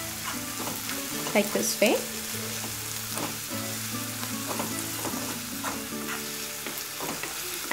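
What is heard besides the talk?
stirring masala with turmeric in a frying pan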